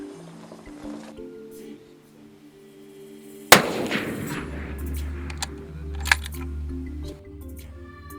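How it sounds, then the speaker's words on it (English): A single loud rifle shot cracks out at a range while rifles are sighted in, with a sharp report and a rumbling echo afterward, among low background hum and faint clicks. "First stop is at the range to make sure the rifles are still sighted in."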